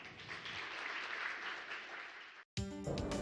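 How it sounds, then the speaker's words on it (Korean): Audience applause welcoming a lecturer at a Korean science forum, a dense, steady wash of clapping that stops abruptly and gives way to a different, brighter sound after a brief gap. "큰 박수와 함께 오늘 강연자를 모시도록 하겠습니다."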